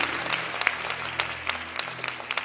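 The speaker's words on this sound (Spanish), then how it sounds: "Démosle un aplauso bien bonito al Señor." A church congregation applauds during a Spanish-language service, a steady wash of many hands clapping with sharper individual claps poking through and faint voices beneath.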